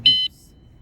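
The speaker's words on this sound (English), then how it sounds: "So press, after 3 seconds, it beeps." A PIDZOOM FH30 finger horn gives one short, clear electronic beep as it arms, lasting about a quarter second, followed by quiet.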